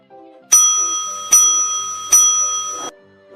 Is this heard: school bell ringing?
yes